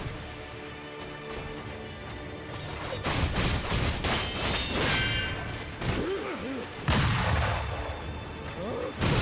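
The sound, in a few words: gunfire from enemy gunners in video game Sekiro: Shadows Die Twice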